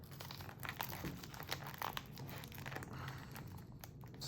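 A sealed 2023 NFL Panini Prizm card box is opened up close, with soft, steady crinkling and tearing of plastic wrap and packaging that stays quiet throughout.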